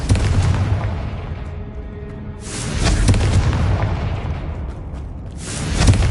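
Loud spell explosions from Confringo in Hogwarts Legacy, a booming blast followed by a second heavy burst partway through, each with a rumbling tail, no talk.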